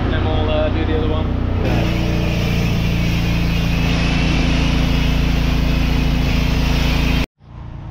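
Steady engine drone of a pressure washer running through a quick rinse, loud and constant with a mechanical hum, then cutting off abruptly near the end.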